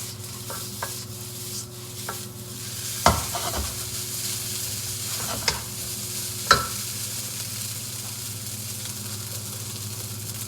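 Fried rice sizzles in a non-stick wok on an electric stove after a splash of balsamic vinegar, a steady low frying hiss under an electrical hum, with occasional scraping stirs and clinks of the utensil.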